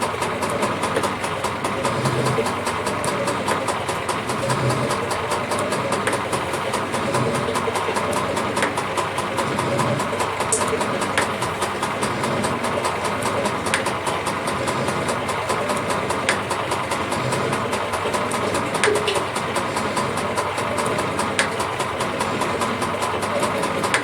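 A metal shaper with its head tilted 35 degrees cuts a chamfer using only the vertical slide, giving a steady mechanical drone with faint, regular clicks of the ram stroke every couple of seconds.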